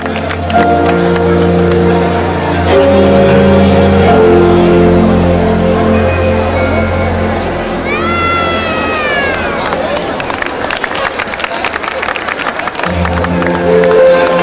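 An audience at a 2013 school silver jubilee function applauds and cheers, a broad wash of clapping swelling in the middle of the clip amid music and speaking voices.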